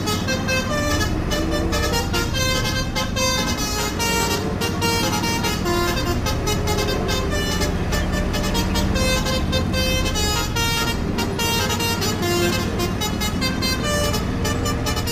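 A toy Basuri telolet bus plays its melodic multi-tone horn tune continuously, bright and busy, with no pauses throughout.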